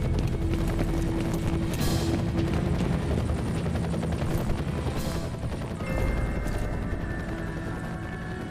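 A helicopter in the video game F.E.A.R. keeps up a loud, dense rotor chop and engine drone, with brief bursts of game sound layered over it and no voices.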